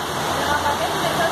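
Strong floodwater current rushing along a city avenue after heavy rain, a steady broadband roar of moving water, loud and continuous throughout.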